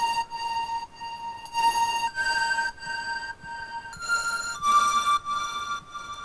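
A bright, bell-like synth lead from a track plays a slow melody of sustained tones, clear and moderately loud, with no voices.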